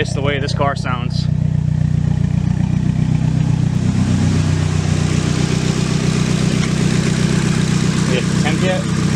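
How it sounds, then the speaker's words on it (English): A Nissan 240SX with a turbocharged SR20DET engine idles steadily and loudly for the whole stretch, its low rumble continuous, while voices talk briefly at the start and again near the end. "I am going to miss the way this car sounds."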